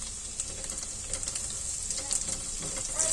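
Vegetables sauté in a pot for a one-pot macaroni soup, giving a soft, steady sizzle with light scraping and stirring taps, fairly quiet throughout.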